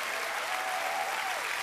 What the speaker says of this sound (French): Et je vous demande de continuer à applaudir et de faire une ovation à Marianne.